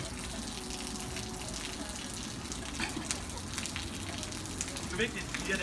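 Steady rushing water from an outdoor shower at a McDonald's, a continuous close gush with faint voices in the background.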